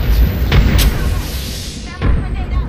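A frag grenade explodes in Apex Legends with a deep, booming thud and rumbling tail, followed by a second muffled blast about two seconds later, loud and close.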